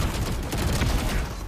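Rapid gunfire bursts from the video game Valorant, a dense continuous volley lasting over a second, loud and close with no talk over it.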